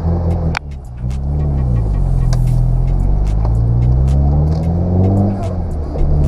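A car engine rumbles steadily in low gear while the car descends a steep, narrow slope, a close, loud, even drone with slight shifts in pitch and a few clicks, a voice speaking briefly.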